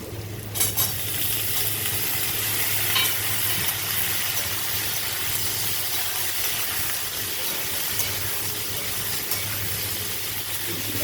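Small diced potatoes with turmeric frying in a pan over dried chilli and whole spices, a steady close sizzle running throughout with occasional scraping stirs, no talking.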